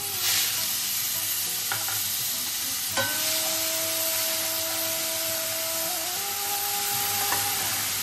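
Whole garam masala, cumin seeds and dried red chilli sizzle loudly in hot mustard oil for a Bengali chital fish curry, a steady dense hiss with a few clinks of a spoon and a faint steady whine in the background.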